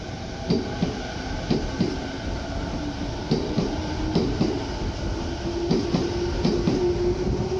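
A B.B.BASE rapid train on the Sawara–Kashima route in Japan rolls along with steady rumbling and rhythmic clickety-clack of wheels over rail joints, fairly close, with occasional faint squeals.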